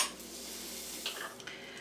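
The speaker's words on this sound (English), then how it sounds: "I'm going to put my onions in frying now with a tablespoonful of butter" Chopped onions with a tablespoon of butter and some oil sizzle in a pan, a steady soft frying hiss with faint stirring clinks, heard quietly with no one talking.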